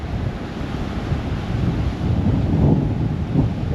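Storm surf from Tropical Storm Alberto's outer bands pounds Galveston beach in Texas, a loud continuous roar of crashing waves mixed with heavy wind buffeting the microphone.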